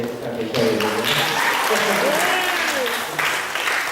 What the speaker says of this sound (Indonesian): Tepuk tangan untuk yang miskin-miskinnya dari desa ini.